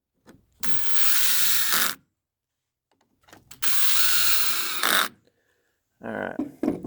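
Three bursts from a power drill running screws down to hold the handle of a Troy Bilt TB2MB leaf blower together, each buzzing for about a second, close and loud, separated by short silences.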